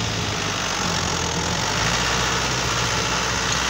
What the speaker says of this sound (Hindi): देख सकते हो ट्रैक्टर चल गया